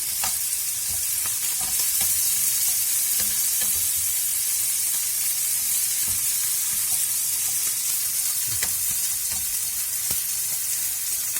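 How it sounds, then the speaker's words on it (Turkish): Steady, dense sizzling of chicken frying in a pan, with occasional clicks and scrapes, loud and close throughout with no talking. "Arkadaşlar tavuklarımız kızarmaya başladı."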